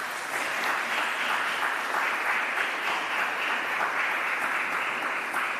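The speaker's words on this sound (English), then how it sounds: "Please applaud them." Audience at the investiture ceremony for the Poet Laureate of Jamaica applauding, a full, close, sustained round of clapping that stays at an even level from start to finish.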